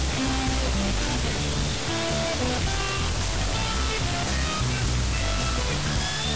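Spatialize dither noise: a continuous, even wash of broadband hiss with faint, fleeting tonal fragments surfacing through it, steady and moderately loud throughout with no voices.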